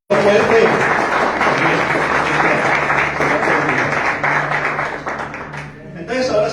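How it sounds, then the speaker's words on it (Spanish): Congregation applauding inside a church during a Spanish-language service, a dense, sustained wash of clapping that runs loud and steady for several seconds and then briefly dips near the end before swelling again. "Démosle un aplauso a Rosa, por favor."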